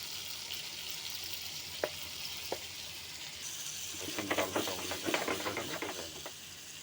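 Carp roe frying in a pan with spices sizzles as a steady hiss, with a few sharp taps early on, then busier crackling and scraping as the mixture is stirred, quiet and close.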